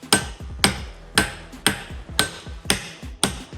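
A hammer pounding an aluminum RC car chassis, eight sharp metallic blows in a steady rhythm about half a second apart, each ringing briefly, loud and close with no talking.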